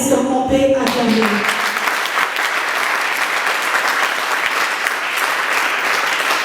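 An audience at a student training session on essay writing applauds steadily and loudly, a dense continuous clapping that rises right after a brief spoken line at the start and carries on unbroken to the end.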